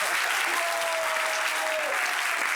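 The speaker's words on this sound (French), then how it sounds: "Applaudissements pour vous-même également." Loud, dense applause from an audience at a talk-show gathering, continuous and full throughout, with a faint tonal hum running beneath the clapping.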